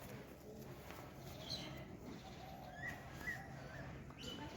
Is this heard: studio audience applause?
no